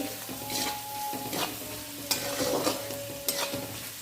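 Onions frying in a pan with a pinch of salt for a spicy Kolhapuri mutton curry: a steady close sizzle with repeated scraping stirs of a spoon against the pan, no voices.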